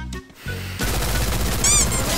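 Video game gunfire from an MP40 submachine gun with a skin, a brief spell of quiet clicks giving way to a loud continuous automatic burst.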